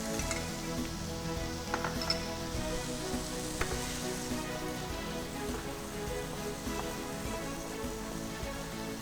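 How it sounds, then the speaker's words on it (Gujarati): Mixed vegetables with spoonfuls of tomato paste sizzle steadily in a hot pan while being stirred, a constant crackling fry with faint scraping throughout. "અને બધા વેજીટેબલને આપણે એકી સાથે હલાવીશું"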